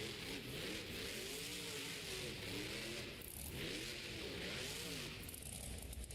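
El Toro Loco monster truck engine revving loudly in an indoor stadium during a Monster Jam show, with repeated rising and falling throttle surges over constant crowd and arena noise.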